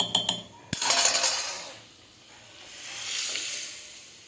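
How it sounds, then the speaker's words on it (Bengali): Mung dal with a fish head is stirred in a pot, opening with a few sharp metallic clinks and a knock of the ladle, then fading into a faint wet swirl and low hiss. "দেখো আমি ডালটা এবার ঢেলে দিলাম, একটুখানি ঘেটে নিই।"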